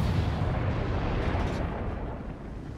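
Torpedo explosions in a naval video game make a dense, loud, rumbling roar that fills the short stretch without a break, with a small sharp pop at the very end.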